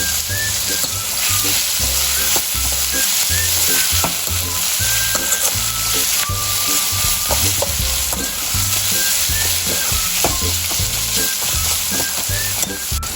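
Onion with curry leaves sizzles loudly in a hot pan, a continuous close frying crackle with rhythmic stirring scrapes running throughout and no voices.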